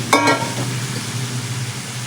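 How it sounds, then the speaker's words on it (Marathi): Chopped brinjal tipped into a hot spiced pan, giving a sharp burst of sizzling that settles into a steady, close frying hiss. "आता आपण ही वांगी आहेत बारीक कट करून घेतलेली ती घालून घ्यायची आहेत"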